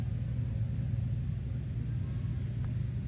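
McLaren F1 GTR Longtail race car running at the Goodwood Festival of Speed, a steady low engine rumble heard from a distance with no clear revving, under crowd and ambient noise.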